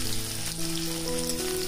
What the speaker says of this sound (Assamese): এতিয়া এইখিনি অকণমান দেৰি ভাজিম যাতে ৰঙচুৱা অকণমান বৰণ এটা আহে